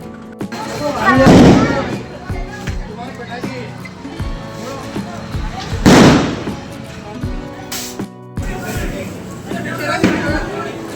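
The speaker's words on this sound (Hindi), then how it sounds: "बच्चे अभी बाहर आतिशबाजी कर रहे हैं" Diwali fireworks and firecrackers burst outside, several loud sharp cracks spaced a few seconds apart, with crackling between and people talking in the background.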